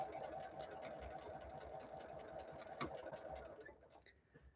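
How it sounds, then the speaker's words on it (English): A sewing machine stitches quilt blocks in a steady whirring run with rapid mechanical ticking, close and continuous, slowing and stopping near the end. "let's start sewing this together"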